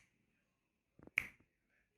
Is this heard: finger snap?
yes